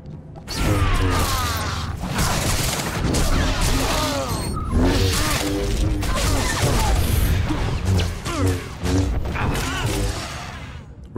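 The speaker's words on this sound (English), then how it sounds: "Resulting in plenty of explosions." Explosions and combat in the video game Star Wars: The Old Republic, dense crashing bursts and mechanical clanks throughout, loud and continuous with brief dips.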